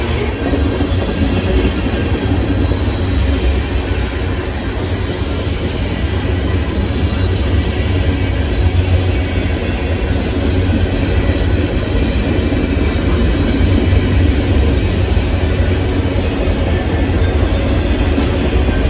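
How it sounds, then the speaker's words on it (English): A Norfolk Southern southbound mixed freight train rolls past steadily and loudly for the whole stretch, a continuous roar of railcars and wheels on track with no break. "another Norfolk Southern southbound mixed freight train"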